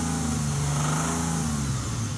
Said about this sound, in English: Man, this kind of sounds like a rod knock.